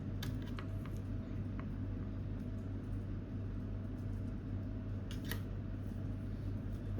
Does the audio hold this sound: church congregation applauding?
no